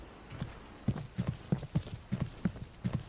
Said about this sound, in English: I believe I had a horse.